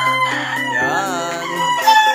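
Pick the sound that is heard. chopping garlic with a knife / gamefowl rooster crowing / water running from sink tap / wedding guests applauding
gamefowl rooster crowing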